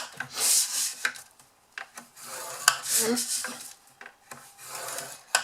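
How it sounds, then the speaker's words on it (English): Paper sides for a honeybee hive gift box being scored at 2 inches, giving a close, dry rubbing and scraping with repeated strokes and short pauses, no talking. "we're simply going to score all of our sides at 2 inches, which will be 5 centimetres"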